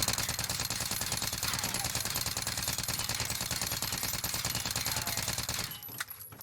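An AR Milano assault rifle fires in sustained full-auto bursts at about 20 meters in Warzone, a dense, rapid, loud stream of shots that continues for several seconds before cutting off abruptly.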